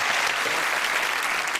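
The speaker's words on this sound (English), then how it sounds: "Round of applause." A television panel show studio audience applauds, a dense, loud, steady burst of many hands clapping that fills the short moment without pause.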